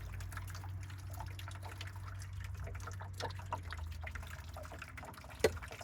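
Water drains out while a camper water heater on a Casita travel trailer is being flushed, a steady gushing trickle with a low hum that eases off, then one sharp knock near the end.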